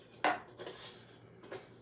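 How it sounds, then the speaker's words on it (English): A metal spoon clatters against a dish while crushing banana pudding topping, one sharp scrape followed by a few softer knocks and a final clink, close and alone. "So I'm going to take a spoon and I'm going to crush these."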